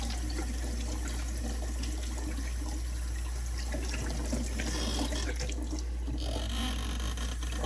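Water runs from a tap into a sink while a face is washed with lukewarm water, a steady splashing rush with small bursts of dribbling, and no speech.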